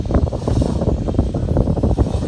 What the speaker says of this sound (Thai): ลมค่อนข้างแรงนะครับ